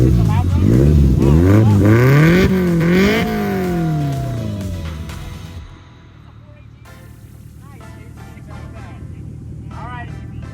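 Mitsubishi Pajero XR-II engine revved hard several times in quick succession, a loud close roar climbing and falling, then easing back to a lower idle while people talk nearby.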